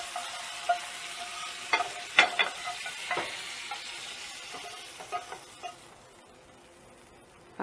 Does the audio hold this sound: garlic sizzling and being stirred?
yes